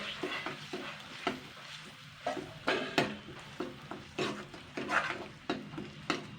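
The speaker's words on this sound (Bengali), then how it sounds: "এই পেস্টটা হালকা আর কি ভেজে নেবো" Fish egg paste fries in a pan on medium heat, with a steady soft sizzle broken by repeated scraping stirs of a spatula at an irregular rhythm, close and fairly quiet.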